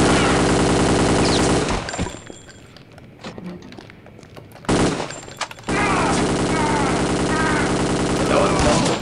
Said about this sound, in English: Gotta get out my flamethrower before it's too late.